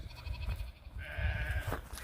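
Sheep bleating in an open field, one faint, drawn-out bleat standing out over soft outdoor rumble and wind.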